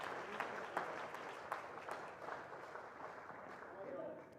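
Crowd at a FIP Silver padel semifinal applauding after a point won into the empty corner, a steady sustained clapping with a few sharper claps standing out, spread across the whole stretch.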